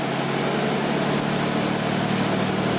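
A classic car engine fires up and settles into a steady idle, a continuous mid-to-low rumble that holds even and fairly loud throughout, with no voices over it.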